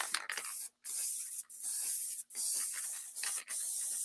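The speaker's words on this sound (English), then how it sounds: "I'm over here spraying" An aerosol spray can hisses in a series of bursts during a patriotic-themed home decor craft project, with five or six short sprays separated by brief pauses and a nearby, fairly loud sound and no talking.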